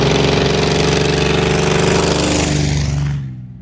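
The modified motor of a heavily customized truck with smokestacks runs loudly and close with a steady, rough, throbbing drone, then cuts off abruptly at the end.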